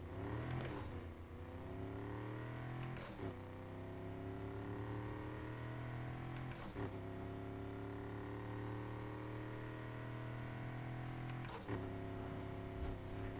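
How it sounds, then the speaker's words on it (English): A fully customized car engine in the racing game NFS Heat, driven with a wheel, pedals and manual gear shifter, revs steadily upward in long pulls broken by several sharp gear shifts, fairly quiet with no talk. "I chose the engine noise for this."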